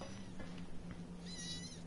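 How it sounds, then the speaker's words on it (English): A cat meows during gameplay in the park game, a faint high mewing near the end over a steady low game hum, with no talk. "Will you stop meowing?"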